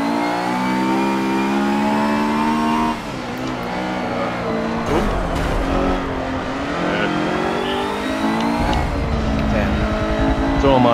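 A Ferrari race car in the video game Forza 7 at Mugello, its engine loud and close, revving and shifting with rising and falling pitch, then dropping off and climbing again.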